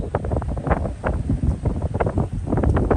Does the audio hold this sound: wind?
yes